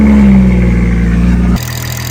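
A tuned BMW M240i with an upgraded fuel pump and stage 2 tune starts at night, a loud low rumble that drops abruptly into a steady idle, no voices.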